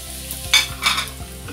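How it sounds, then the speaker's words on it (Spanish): A sofrito of finely chopped onion and sweet paprika frying in a pan, a low continuous sizzle broken by a few brief stirring scrapes and clatters, close and without speech. "vamos a empezar a hacer aquí un sofrito con cebolla bien picada, pimentón dulce"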